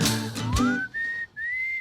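A person whistles a short tune alone and up close, a rising slide followed by two sustained clear notes separated by a brief breath.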